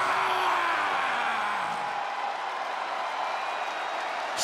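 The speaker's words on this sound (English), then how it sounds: "No one gets the crowd fired up like the New Day." Arena crowd in the WWE 2K24 wrestling video game cheers and roars in a dense sustained wash of noise, loud and steady throughout without a clear break.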